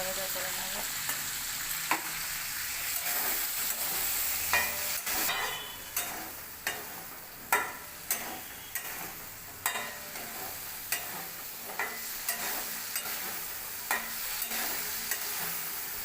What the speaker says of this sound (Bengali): হলুদ, নুন দিয়ে ভালো করে ভেজা ভাজা করে নেব।